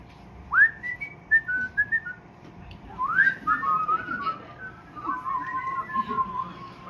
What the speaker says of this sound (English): Whistling is really difficult.